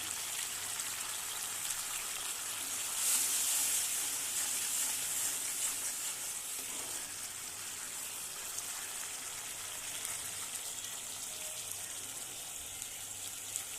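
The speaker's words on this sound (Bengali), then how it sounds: "ভাত ফুটছে আমার টকবক করে" Rice boiling in a pot on a home stove, a soft continuous bubbling and hiss that stays faint and even, with no talking over it.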